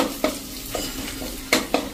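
Leftover spice paste for stuffed pointed gourd curry sizzling in hot oil while a spoon stirs, with a few sharp scraping strokes against the pan over a steady fry.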